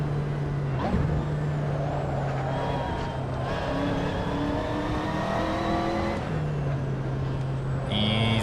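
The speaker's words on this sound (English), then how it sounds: "Somebody locks up the brakes every time here." A race car in the Assetto Corsa racing game brakes hard and locks its wheels on the Nürburgring GP track. A loud, steady engine drone runs throughout, with brief harsh transients and a high squeal toward the end.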